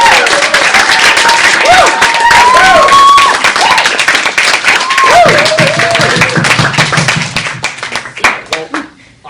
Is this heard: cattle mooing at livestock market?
no